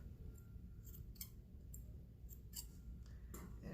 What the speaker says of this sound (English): You see I'm cutting quite a bit off.